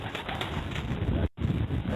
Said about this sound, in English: Very nice pigeon. I like him.